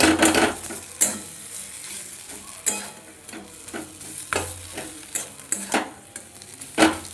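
Fish cutlet filling is stirred in a pan, a spoon scraping and knocking in irregular strokes over a faint sizzle, close and alone without talk.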